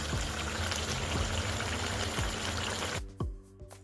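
Water poured into chicken kosha in a cooking pot, a steady splashing stream with small gurgles, stopping abruptly near the end and leaving a few faint drips.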